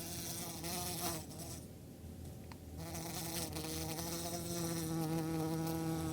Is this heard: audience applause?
no